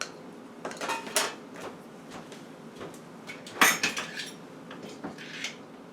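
Almonds being mixed with sugar in a bowl, a series of close, irregular clinks and scrapes of a utensil against the dish, some sharper knocks standing out, with no talk.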